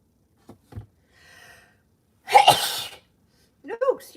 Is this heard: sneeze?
yes